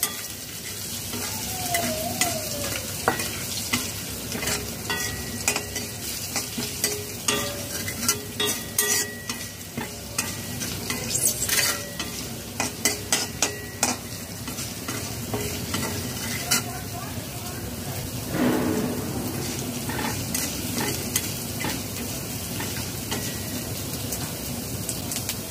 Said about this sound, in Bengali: লো টু মিডিয়াম ফ্লেমে হালকা করে ভেজে নেব